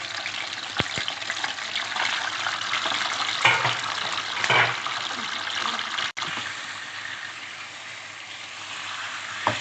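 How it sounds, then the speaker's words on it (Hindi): Chicken frying in a karahi for chicken karahi, a dense, continuous sizzle with occasional stirring clanks and scrapes, close and steady throughout. "अब हम इसमें जो है सारी चिकन डालेंगे और अच्छा सा फ्राई करेंगे इसको"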